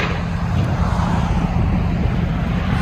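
A 2009 Chevy Avalanche 5.3L V8 with Flowmaster Super 10 dual exhaust idles in a steady, low rumbling drone, close and constant throughout with no talking.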